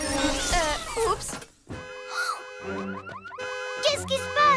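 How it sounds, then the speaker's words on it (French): A cartoon alarm gives rising and falling siren-like electronic wails in a cartoon setting. Childlike character voices talk over the start, then the alarm tones repeat and dominate. "Oh, une alarme."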